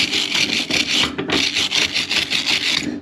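Grinder-mounted wire brush scours rust from threads with a loud, steady rasping scrub, briefly dipping around the middle before continuing close and harsh.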